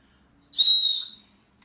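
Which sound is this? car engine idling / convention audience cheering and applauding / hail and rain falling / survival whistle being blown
survival whistle being blown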